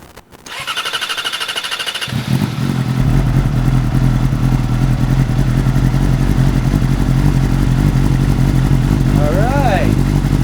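A Yamaha R6 sport motorcycle with an SBK full exhaust system starts after a brief clatter, then settles into a loud, steady, throaty idle with a quick rev near the end.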